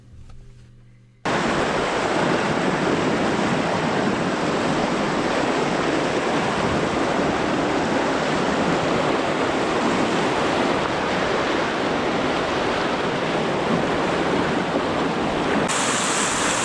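Loud, steady roar of a fast, powerful river wave and rushing water heard from a canoe, continuous and close, beginning abruptly after a brief quieter moment.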